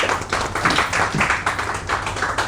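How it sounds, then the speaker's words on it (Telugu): An audience in a hotel session applauds, a dense run of many hands clapping close and loud for the whole stretch, with no talk over it. "ఒక్కసారి క్లాప్స్ కొట్టండి ఆవిడకి."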